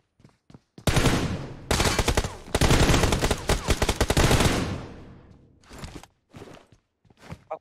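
Rapid automatic gunfire in PUBG Mobile, several close, loud sustained bursts over a few seconds, followed by shorter separate bursts and footsteps.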